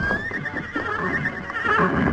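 A horse neighs in a long, loud whinny close by, with faint hoofbeats and stable noise beneath, in an old radio drama scene.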